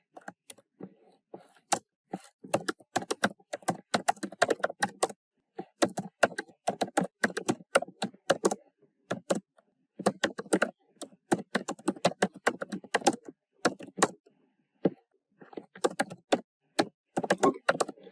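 Quick typing on a computer keyboard, close and crisp, with clustered bursts of keystrokes separated by short pauses, running alone without talk.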